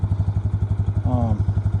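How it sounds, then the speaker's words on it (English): A Grizzly ATV engine idles after a cold pull start with the choke off, chugging in a steady, close, rapid rhythm while a voice briefly talks over it. "I turned the choke off now, so it is idling, which is exciting."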